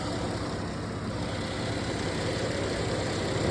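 A 2018 SXT car idling with its cooling fans running, a steady mid-pitched engine drone blended with broad whooshing fan noise, close and continuous with no talking.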